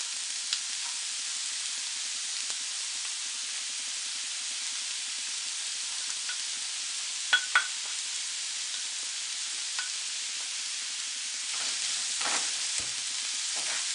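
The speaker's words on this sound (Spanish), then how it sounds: "Y aprovechando la misma grasita del tocino que soltó, ahí voy a echar la cebolla." Onion fries in rendered bacon fat in a pan, a steady, even hiss of sizzling throughout with a few faint clicks of a utensil and a slightly busier stir near the end; no voices.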